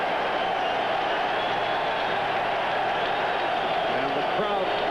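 Crowd at a 1986 football game, New York Jets at Buffalo Bills, in a steady wide roar of cheering and applause throughout, distant and continuous, with a commentator's voice talking over it.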